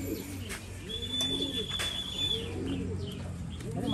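Pigeons coo in a low, repeated murmur close by outdoors, with a faint high whistle and a few soft chirps over a steady background hum; no talk.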